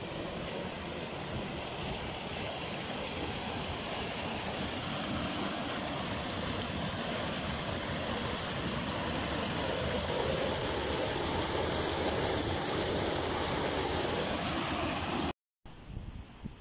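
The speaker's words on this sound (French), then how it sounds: "Voilà la petite rivière qui absolument n'a vraiment pas changé." A small mountain river flowing steadily, a continuous close rushing and babbling that holds at even loudness, briefly cut near the end.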